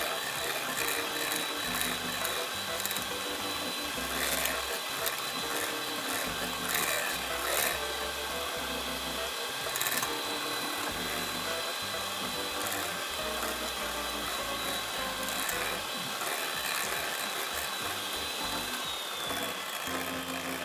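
Electric mixer whipping cream toward a Chantilly texture, a steady mechanical whirring and rattling drone that runs continuously at moderate level with fluctuating pitch, with faint talk in the background.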